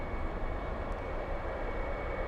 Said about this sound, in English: That's a muffler delete on their V6